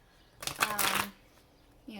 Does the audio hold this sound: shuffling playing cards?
yes